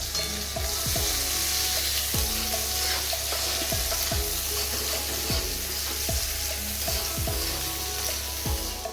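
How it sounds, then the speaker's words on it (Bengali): Chopped onions fry in hot oil in a wok, giving a loud, continuous sizzle broken by regular scraping strokes of a stirring spatula every second or so. "কুচনো পেঁয়াজ তেলের উপর ছেড়ে ভাজতে লাগলাম।"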